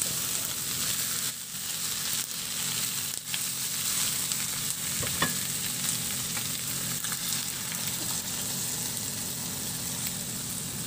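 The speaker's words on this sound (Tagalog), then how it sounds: "At ihalo lang hanggang sa mag-iba na ang kulay o mag-render na rin ang sarili niyang mantika." Marinated pork kasim frying in its own rendered fat, giving a loud, continuous close-up sizzle and crackle with a few faint stirring knocks and no voices.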